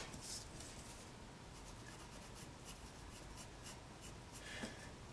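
A pencil scratches softly across paper while drawing an almond-shaped eye outline, with short light strokes and rubbing, faint and close, with no talk.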